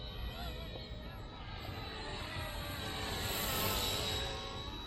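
A red and white RC ERA C138 Bell 206 model helicopter with a new brushless motor and navy blue accents gives off a steady high whine and rotor buzz that swells slightly near the end, continuous and fairly close.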